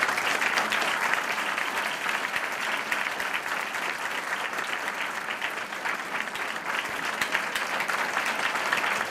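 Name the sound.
audience applause for award recipients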